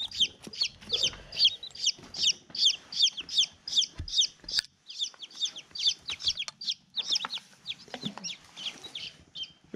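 Five-day-old chicks in a covered brooder give rapid, high-pitched peeps in quick repeated bursts, close and clear, with soft rustling below.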